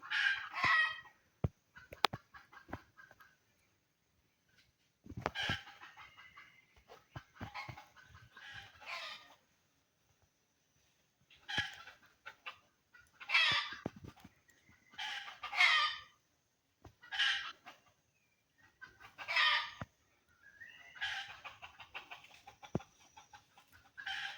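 Chickens cluck in short bursts while a rooster crows several times, spaced out with quiet gaps, fairly close and clear with no talking.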